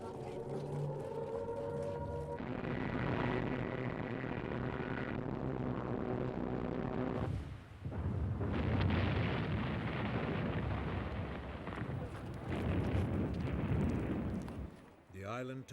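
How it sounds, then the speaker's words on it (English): Archival WWII bombing of Malta by the Luftwaffe, with heavy rumbling blasts and roaring broadband noise that run almost continuously and loudly, briefly easing midway and near the end, with a tonal musical passage at the start. "In early 1941, the Luftwaffe bombed Malta."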